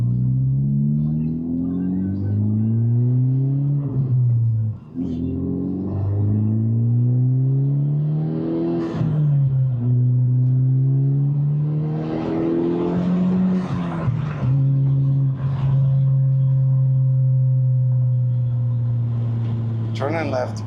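A 2023 Honda Civic Type R turbo engine pulls hard through several gears from inside the cabin, each rising engine drone dropping at a shift before climbing again, loud and close, with a person talking over it.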